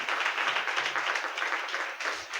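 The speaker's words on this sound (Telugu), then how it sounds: "చప్పట్లు కొట్టి ప్రభువుకి స్తోత్రం" A church congregation claps together in praise of the Lord during a pastor's sermon, a steady sustained wash of many hands that holds fairly even from start to finish.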